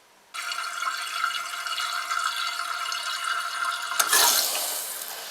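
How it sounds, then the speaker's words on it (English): Toilet fill valve refilling the tank after slow leakage through a worn flapper: water rushes in abruptly and runs as a steady close hiss and gurgle, shifting to a brighter, louder splash near the end. "this causes the fill valve to turn on to refill the tank."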